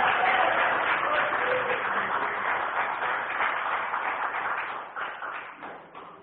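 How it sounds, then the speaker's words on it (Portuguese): Church congregation applauding together, a dense steady wash of clapping with faint voices mixed in, fading toward the end. "Pode aplaudir o Senhor Jesus."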